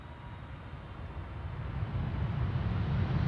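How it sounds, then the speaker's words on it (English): Low rumble of a Boeing 747 airliner, Saudi flight 933, arriving at Schiphol, building steadily louder as it approaches from a distance. "First 747 of the show, Saudi flight 933. Will it get loud?"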